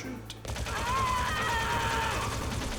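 Gunfire from the video game Metal Gear Solid Integral, a sustained burst of shots that begins after a short pause and runs to the end of the clip over a tonal backdrop.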